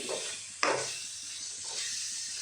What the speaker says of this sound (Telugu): ఇప్పుడు దీన్ని కూడా బాగా కలుపుకొని